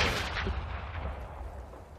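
Gunfire in a video game: a heavy, booming burst right at the start, followed by a long rumbling, reverberant tail that slowly fades over about two seconds.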